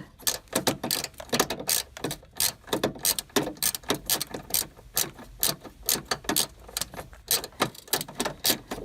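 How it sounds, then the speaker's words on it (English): A short stubby ratchet wrench works loose the 3-way coolant flow control valve on a 2004–2009 Toyota Prius, dozens of quick metallic clicking bursts in a steady back-and-forth rhythm, close up and unaccompanied. "we also have this short stump ratchet, I think it's called, to take it out. And it's gonna be a lot of turning"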